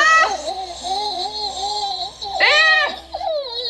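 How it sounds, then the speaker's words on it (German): Strange baby-like cries and whimpers come through a phone call in a horror video game at 3 a.m., wavering high-pitched vocal sounds with a brief exclamation, a few seconds of eerie crying mixed with a voice. "Warum höre ich irgendwie so komische Babygeräusche?"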